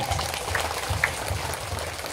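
An audience at a religious gathering in an Islamic boarding school, Pondok Pesantren Al-Ishlah in Jambi, claps together in a dense, even patter of applause that lasts the whole short stretch.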